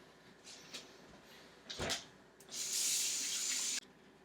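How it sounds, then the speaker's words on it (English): A kitchen tap runs as hands are washed under it after applying a dry rub to meat, preceded by a few soft handling noises and a short splash, then a steady, fairly close stream that stops abruptly. "Then wash your hands."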